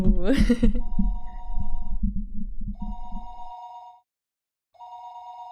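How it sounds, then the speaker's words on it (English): Telephone ringing in the Higurashi video game: repeated bursts of a bright electronic ring with a short silent pause between them, preceded by a low rumbling thud at the start. "The phone suddenly rang."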